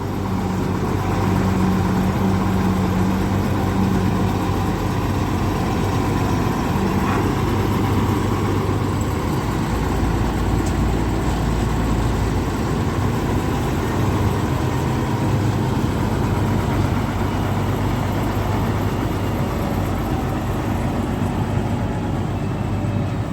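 A combine harvester engine drones steadily and loudly while harvesting mung beans, a constant low mechanical rumble with no pauses and no voices.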